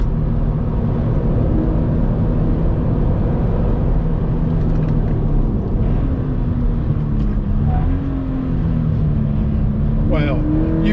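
A 2022 Subaru BRZ sports car engine drones and revs as it builds speed on the Eastern Creek race track, a loud steady roar with rising pitch sweeps near the end, while a person talks over it.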